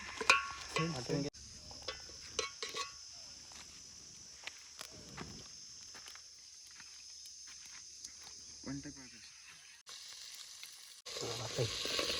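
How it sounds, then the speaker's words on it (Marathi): Grated coconut frying in a pan at a home cooking session, a steady close sizzle with occasional utensil clatter and stirring, while people talk nearby. "खोबरं तळू द्यायला लागत होतं"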